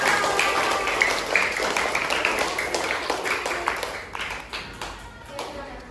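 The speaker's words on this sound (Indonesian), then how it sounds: "Kasih tepuk tangan dari teman-teman." Schoolchildren in a primary classroom clapping for their classmates, a lively burst of hand claps with children's voices mixed in, thinning into scattered separate claps toward the end.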